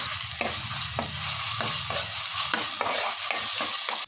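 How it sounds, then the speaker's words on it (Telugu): Ginger garlic paste frying with onions in a pan for a chicken liver dish, a steady loud sizzle with repeated scraping stir strokes about every half second, close and continuous with no talking. "ఇందులో కొద్దిగా అల్లం వెల్లుల్లి పేస్ట్ వేసుకుని పచ్చివాసన పోయేంత వరకు కూడా ఇదంతా ఫ్రై చేసుకోవాలి"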